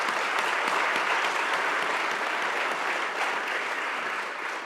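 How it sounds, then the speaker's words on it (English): Steady, dense audience applause at a state of the schools address, sustained and fairly loud throughout, easing slightly toward the end with no talking over it. "Can we give them a round of applause"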